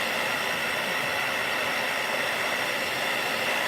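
A hair dryer blows steadily and close up, drying a watercolor painting with a constant, unbroken whoosh and no voices.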